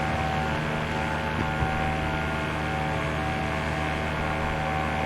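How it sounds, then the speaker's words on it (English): Small propeller airplane droning steadily overhead while flying above New York City at night, a constant engine hum with a low tonal buzz throughout, fairly loud and continuous with no voices. "You hear that little plane in the background?"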